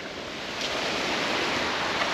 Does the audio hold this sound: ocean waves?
yes